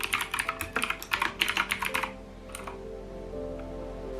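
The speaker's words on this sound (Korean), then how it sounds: "청축이어서 소리가 경쾌하고 큰 편인데" Loud, clicky mechanical keyboard with blue switches typing: a quick run of sharp keystrokes for about two seconds, then quiet room tone.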